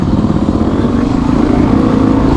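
A Kawasaki KLR650 dual sport motorcycle climbing uphill, its engine a loud, steady low thumping drone heard up close with no break and no voices.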